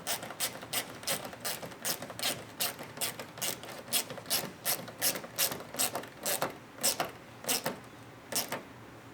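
A ratchet tightens the top mounting bolt of a Rokblokz mud flap on a 2022 Chevrolet Silverado 1500 ZR2. Steady, close clicking comes in quick regular strokes, about two a second, with no voices.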